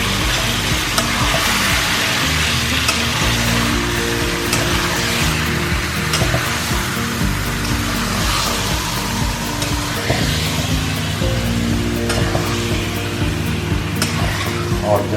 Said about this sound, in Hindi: अब हम इसमें चिकन डाल देते हैं